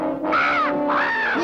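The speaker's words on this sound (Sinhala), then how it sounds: "කපුටා." A cartoon crow gives two drawn-out harsh caws followed by the start of a third, loud and close against a faint steady background, with no talking.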